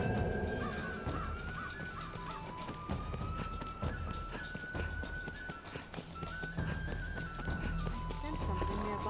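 Bird calls in the Dragon's Dogma: Dark Arisen video game, crow-like caws sounding over a dense, continuous game soundscape with layered ambient noise and music, steady and fairly loud throughout.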